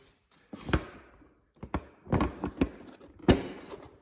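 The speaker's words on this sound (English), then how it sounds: "Now I'm gonna put the seat back on." A seat being fitted back onto a Honda Z125 motorcycle: a handful of separate dull thunks and taps, a few plastic knocks clustered in a short burst near the mic, then one firmer thud as it seats.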